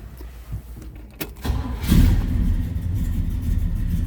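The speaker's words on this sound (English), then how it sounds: "Let's go ahead and start this up so you hear it run." A 1967 Chevrolet El Camino engine cranks briefly, then catches and settles into a steady, close, rumbling idle.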